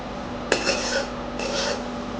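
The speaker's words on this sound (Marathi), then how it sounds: "एक दोन मिनटं ह्याला आपल्याला भाजून घ्यायचं" Gram flour roasting in a pan is stirred with a spoon, a metal clank followed by two bursts of gritty scraping against the pan over a low steady hum.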